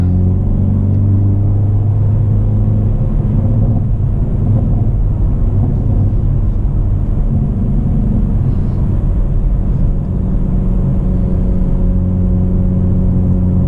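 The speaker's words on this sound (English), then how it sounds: "Crackles and pops." A Hyundai Veloster N engine rumbles steadily up close, with uneven crackling and popping from the exhaust in sport mode breaking through the low drone.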